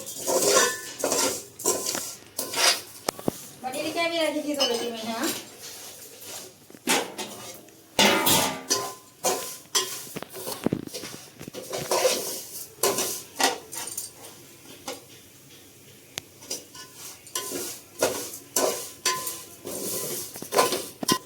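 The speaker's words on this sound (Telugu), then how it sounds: "మనము ఇదే నెయ్యితోనే బాగా ఫ్రై అనేది చేయాలి" Vermicelli frying in ghee in a pan for an Eid sweet, with repeated metallic clinks and scrapes of a spoon against the pan in irregular bursts, fairly close and moderately loud, with no talking.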